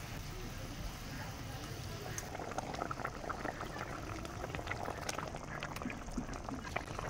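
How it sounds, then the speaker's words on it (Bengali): Mustard fish curry broth bubbling at a steady boil in a pan, with fried bata fish being added, a continuous close simmering hiss with small pops and splashes throughout. "এখন ঝোল ফুটে গেছে, ভেজে রাখা মাছগুলো দিয়ে দেবো।"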